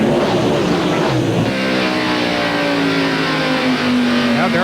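Stock cars in a 1993 NASCAR race, the First Union 400, drive hard through the third and fourth turns, their engines roaring loud and steady, with rising revving tones carrying throughout.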